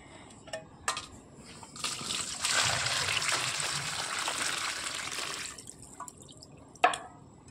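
Water drains from washed taro stems in a colander, running and splattering steadily for a few seconds. Scattered drips and small clinks follow close by.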